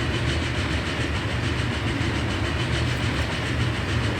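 Trains rolling past in Transport Fever 2, a steady, loud rumble of rail cars with a faint rhythmic clatter running unbroken throughout, no voices.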